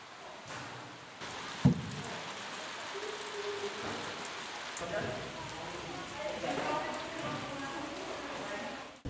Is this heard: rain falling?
yes